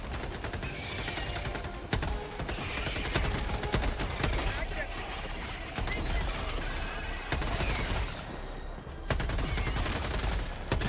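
Gunfire rakes a bug bridge in a video game mission: rapid, dense automatic shooting with sharp cracks and crashing impacts, continuous and loud, while people talk over the battle.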